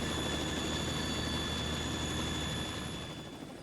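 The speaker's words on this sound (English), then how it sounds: "he's in a goddamn helicopter" Helicopter in the video game Metal Gear Solid 2, a steady broadband rotor and engine roar with a constant high whine, holding level and then easing slightly toward the end, with no talk over it.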